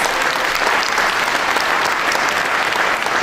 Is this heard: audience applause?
yes